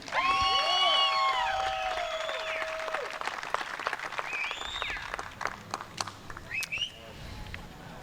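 Spectators at a pro archery shootdown clap and cheer for an archer, steady applause with a few whistles and shouts that thins out toward the end.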